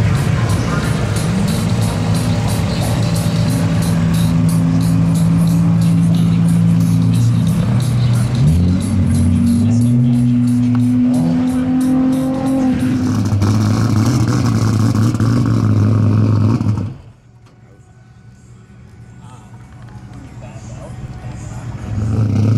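A drag racing car at Yellow Belly's small tire night runs loud and close, its engine revving and pulling through rising tones for about sixteen seconds before cutting off sharply, with people talking over it.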